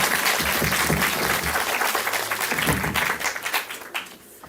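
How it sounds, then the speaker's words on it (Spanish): Audience applause for a panel of specialists at an adolescence discussion: full, dense clapping that holds steady, then thins into scattered claps and fades out. "Demos un aplauso a esta primera ronda de especialistas."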